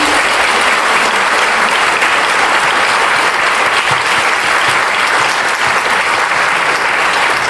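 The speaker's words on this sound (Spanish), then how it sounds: "Pedimos un fuerte aplauso entonces para los veteranos." Loud, sustained applause from a large audience fills the whole stretch, steady and unbroken without voices.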